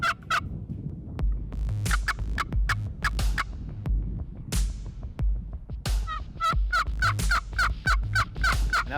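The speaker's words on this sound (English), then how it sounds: "a bird gobbles and he's close" Wild turkey gobbling close by on a Midwest farm during a spring hunt, repeated rattling gobbles in several bursts over a low steady rumble, with no talk.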